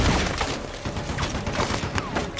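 Rapid gunfire from a Humvee-mounted weapon in a film battle scene, a dense crackling burst of repeated shots running steadily through, loud and close with no voices.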